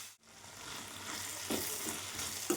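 Green hyacinth bean pods hit a hot pan with tomato and sizzle steadily, a close, continuous frying hiss with small pops and stirring after a brief drop as they go in.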